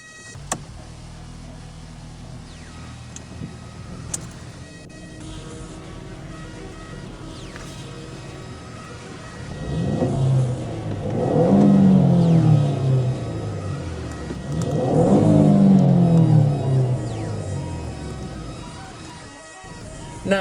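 A 2013 Ford Escape SE's 2.0-litre turbocharged four-cylinder EcoBoost engine turns over and idles with a low rumble, then revs twice, swelling loudly and falling back each time.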